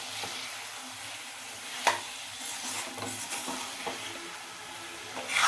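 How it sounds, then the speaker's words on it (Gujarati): Boiled drumsticks (moringa pods) being stirred into a simmering curry in a pan, giving a soft continuous sizzle with scraping spoon strokes and a few sharper clinks, close and moderately quiet. "પછી જો સરગવાની સીંગ બાફેલી નાખી દીધી છે ને બરાબર રીતે આપણે એને મિક્સ કરી લઈશું"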